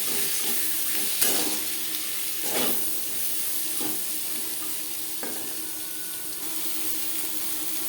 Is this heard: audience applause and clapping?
no